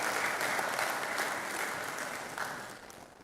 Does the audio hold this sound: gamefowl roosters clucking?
no